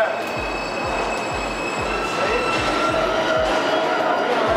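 A subway train arrives at a station, a loud rumble with rhythmic clacking wheels over rail joints and a thin high squeal, close and continuous.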